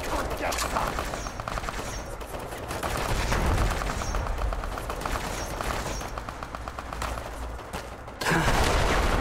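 A flak gun fires in the video game Fallout: The Frontier, rapid repeated bursts of gunfire rattling steadily throughout, with a voice briefly heard.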